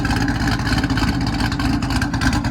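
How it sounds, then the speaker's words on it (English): A loud, continuous exhaust drone from a 2014 Shelby GT500 with aftermarket axle-back exhausts, a throaty rumble, steady and close, with slight surges in pitch throughout. "Gotta kind of speak up a little bit because this car is loud."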